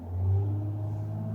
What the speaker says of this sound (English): all I can hear is the exhaust is different